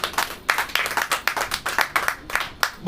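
A church congregation clapping hands in a steady, rhythmic beat, roughly four claps per second, bright and close with no voices over them.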